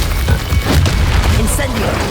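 Incendio fire spell cast in the Hogwarts Legacy video game, a deep rumbling whoosh and boom that fills the short moment, mixed with a voice.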